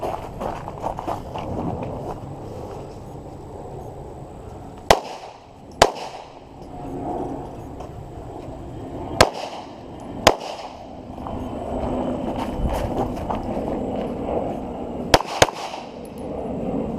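Pistol shots at an outdoor IDPA match, fired as several sharp, separate reports in pairs, loud and close against steady background noise.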